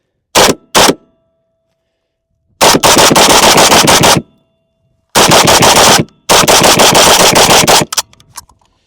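An AK-101 rifle firing Winchester ammunition at an outdoor range lets off loud, close bursts of rapid shots. There is a couple of quick single shots, then three long strings of fire separated by short pauses, with faint tail-off shots at the end.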